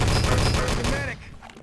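Gunfire in a shooting video game rattles out as dense, rapid bursts of shots for about a second, then drops away to quieter background sound.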